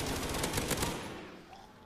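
Rapid automatic AK gunfire rattles in a zombies video game, a dense burst of overlapping shots for about a second before it fades into quieter background game noise.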